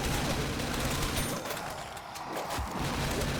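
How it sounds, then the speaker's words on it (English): Rapid bursts of Maverick assault rifle fire from a zombies shooter game, dense and continuous with heavy booming impacts, loud and close with no voices. "Ah, yes, the Maverick assault rifle."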